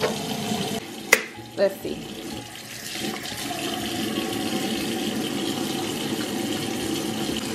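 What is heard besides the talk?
water running from tap while washing hands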